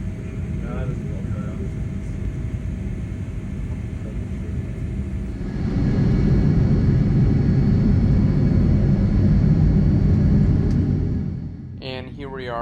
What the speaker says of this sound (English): here we are about to turn onto runway 25 right in order to take off